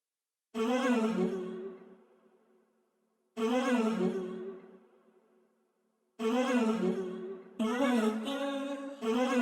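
Chopped, pitched vocal samples from the Arcade plugin in a smooth R&B beat, four breathy sung phrases with harmonic tails, the first two ringing out and fading before the next enters, the last two clipped and stuttering close together.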